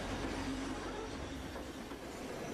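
A passenger train rolls through the tea plantation hills of Sri Lanka's highlands, its steady, dense rumble of wheels and carriage noise continuing loud and unbroken with no voices.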